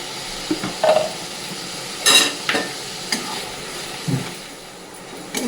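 Spice paste of ground green chilli, turmeric, salt, chilli powder and coriander leaves frying in a pan, a steady close sizzle broken by several sharp scraping stirs of the spatula.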